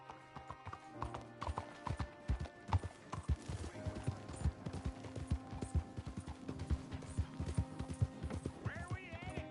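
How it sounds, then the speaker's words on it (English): Horse hooves clip-clop at a steady trotting rhythm in Red Dead Redemption 2, close and clear throughout, with occasional snorts and whinnies, a faint background score and sparse voices at moments. "You got a horse? Get on it."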